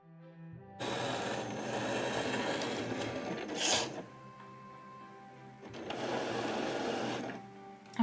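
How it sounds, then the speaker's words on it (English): A Cricut machine with a blade clamp cuts out four fabric pieces for no-sew Minnie ears, giving two steady mechanical runs of whirring and carriage movement separated by a brief pause, close and moderately loud with no talking. "the B blade clamp is gonna go ahead and cut out 4 pieces of fabric"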